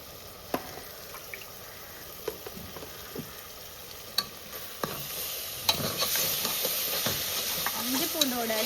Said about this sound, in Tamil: இஞ்சி பூண்டோட ஸ்மெல் போகிற வரைக்கும் வதக்கிக்கலாம்.